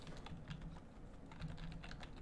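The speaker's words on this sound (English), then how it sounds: "Why is everything clicking in my ear?" Keyboard keys clicking through headphones over a Discord voice call, a quick, faint, irregular run of typing taps with no talk.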